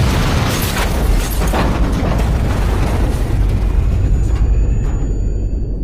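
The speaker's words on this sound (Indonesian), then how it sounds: "terjadi sebuah ledakan hebat" A loud, sustained roaring blast that fills the whole clip, deep rumbling and crackling debris, easing slightly near the end.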